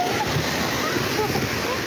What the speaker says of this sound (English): Tongans are on the beach to film the first waves hit the coast.